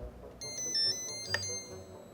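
A home radio-frequency facial lifting device plays a short, faint electronic melody of bright beeping tones when its start button is pressed, in a quiet room.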